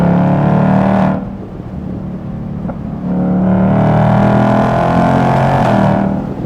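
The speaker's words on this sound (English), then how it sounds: "listen to that exhaust" A 2024 Ford Mustang GT's exhaust roars loudly and close while driving, rising and falling steadily with a brief dip in the engine note before it surges back up.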